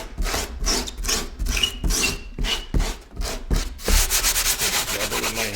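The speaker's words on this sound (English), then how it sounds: "Now I'm just going to pull off the masking fluid." A hand rubs dried masking fluid off watercolor paper, making a rhythmic, close, dry scrubbing of repeated strokes that speed into a faster, steady rubbing near the end.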